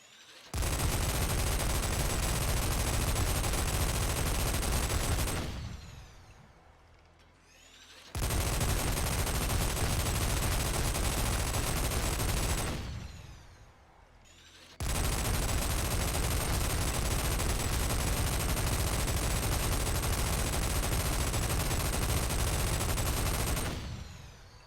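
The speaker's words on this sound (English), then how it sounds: "let's do a quick test fire" Sustained bursts from an M61 Vulcan 20mm minigun with explosive rounds in Fallout 4, three long, loud, continuous roaring volleys separated by brief pauses as the barrels spin down.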